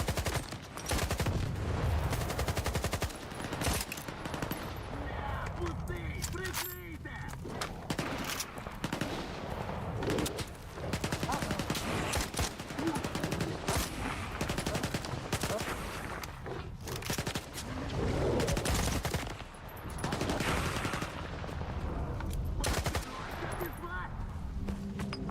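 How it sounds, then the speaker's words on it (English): Steady, heavy gunfire fills a STALKER 2 firefight with rapid shots and crackling volleys the whole way through, mixed with game effects and a voice talking over it. "Oh god, now they're shooting me."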